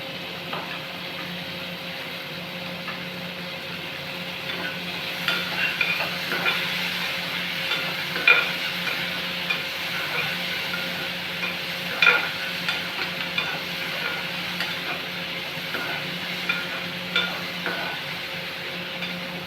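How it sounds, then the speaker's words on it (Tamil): Onion and tomato sautéing in a pan over a medium flame for butter bean sundal, with a steady low sizzle and scattered scraping stirs and light clinks running throughout. "மீடியம் ஃப்ளேமில் வச்சு தான் வதக்கணும்."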